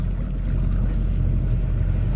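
A sailboat motors out of the Bay of Bourgneuf on a solo passage. Its engine makes a steady, close, continuous drone, mixed with wind buffeting the microphone and water rushing along the hull.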